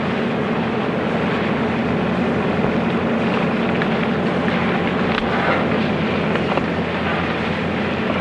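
Inside an airplane cabin, the engines give a continuous, loud, broadband droning rush with a low rumble that stays steady and unbroken throughout, with no voices present.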